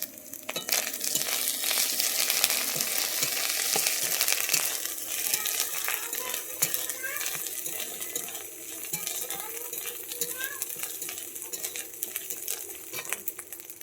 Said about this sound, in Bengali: আদা রসুনটা ভাজা হয়ে গেছে এর মধ্যে আমি দিয়ে দিচ্ছি কাঁচা লঙ্কা